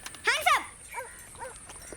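A dog on a rural property lets out a loud bark, then two shorter, weaker yelps a moment later.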